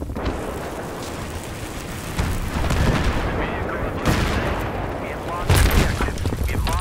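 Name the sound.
mortar explosions in a video game, Kharg Island map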